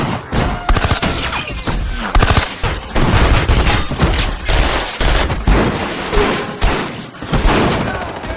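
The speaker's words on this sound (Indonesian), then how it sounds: "tiba-tiba mereka dikepung oleh para polisi hingga terjadilah aksi tembak-tembakan" A shootout during an ambush on a mafia deal by police in an action film: loud bursts of gunfire and booming impacts come one after another in fast, dense volleys, with crashes and thuds mixed in.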